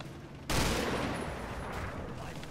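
A sudden loud burst of machine gun fire from a shoulder-fired MG on a combat battlefield, a sharp onset followed by a long echoing roll that slowly fades into the distance.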